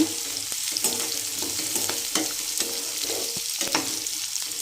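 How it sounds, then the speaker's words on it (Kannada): Garlic, green chillies and onion frying in oil for puliyogare, with a continuous close crackling sizzle and repeated scraping stirs of a spoon against the pan, with no talking. "ಆನಿಯನ್ ಚೆನ್ನಾಗಿ ಫ್ರೈ ಆಗಬೇಕು"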